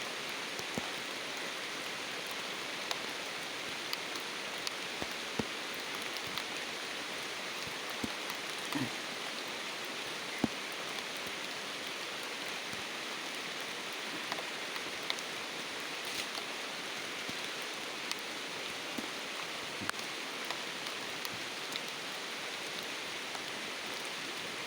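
Steady rain hisses evenly for the whole stretch, with scattered louder drops ticking on a nearby surface; no one speaks.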